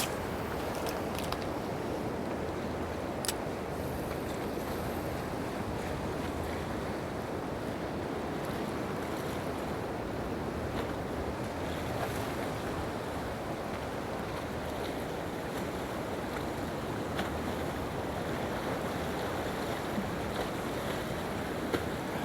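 Sea waves about two metres high surge around a fishing boat during squid fishing off Gapado island, a continuous rushing roar of water and wind, steady and full throughout with no talk.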